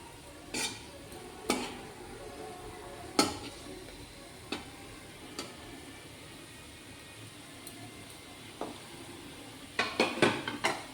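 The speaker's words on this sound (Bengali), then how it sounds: "ধীরে ধীরে একটু সময় নিয়ে এটা ভাজা হবে" Ripe banana fritters fry in hot oil with a soft, steady sizzle, broken by sharp clinks and scrapes of a utensil against the pan, fairly close and quiet with no talking.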